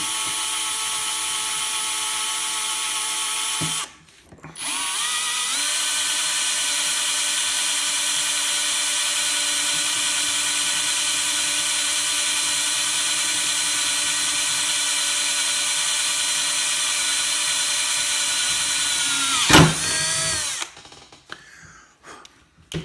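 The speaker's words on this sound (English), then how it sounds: "basically what you're going to do is just drill" A power drill whines steadily at high speed, drilling out material on a Losi 5ive-T RC car part, pausing briefly once, then running long before stopping with a final clatter; close and loud, no talk.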